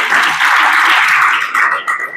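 Audience clapping at a Marathi lecture series in a college hall, a dense continuous patter of many hands that holds steady for about two seconds and fades slightly toward the end.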